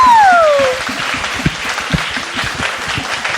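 Audience applause at a stage show, a loud crowd clapping that opens with a rising excited shout and then settles into steady rhythmic clapping.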